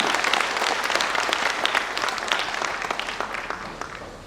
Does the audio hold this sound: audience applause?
yes